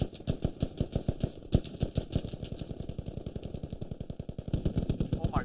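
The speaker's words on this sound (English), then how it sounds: "There's so much shooting now." Rapid automatic gunfire in the military shooter game Squad, a dense run of sharp, evenly spaced shots that goes on without a break, close and loud over a low engine hum.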